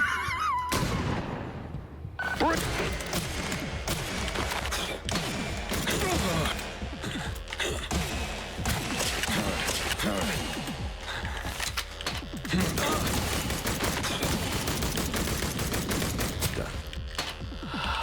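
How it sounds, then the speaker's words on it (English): Rockets fired in a video game, a dense, continuous barrage of blasts and mechanical clatter running loud throughout, with no talking. "I'm practicing firing the rocket"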